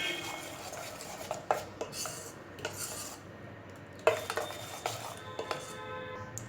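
A spoon scrapes and knocks around a bowl of dhokla batter in uneven strokes, with occasional sharper clinks against the side; close and fairly quiet.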